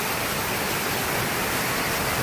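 Heavy rain pours off a house roof in a continuous loud broadband rush, a steady roar of water with no pauses and no voices.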